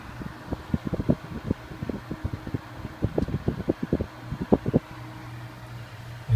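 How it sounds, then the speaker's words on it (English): A refrigerator fan motor runs after defrosting, producing a low steady hum with rapid, irregular ticking and flapping clicks throughout, close and moderately loud. "the fan motor should turn on"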